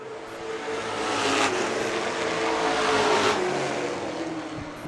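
Pro stock race cars race in a heat at Wiscasset, with loud engines revving and roaring past. The sound swells twice as cars sweep by, set against a steady racing drone.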